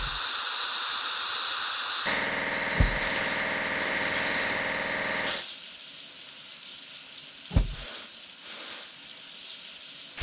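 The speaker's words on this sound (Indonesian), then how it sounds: "Kita perlu mencuci truk drop side." A drop side truck being washed in a kids' building video game: a steady hissing spray of water runs continuously, shifting in tone partway through, with game music faintly underneath and no talk.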